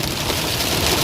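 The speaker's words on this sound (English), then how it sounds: "the rain's rolling in" Heavy rain drums steadily on a car while driving, a dense continuous hiss with no gaps across the short stretch and no voices.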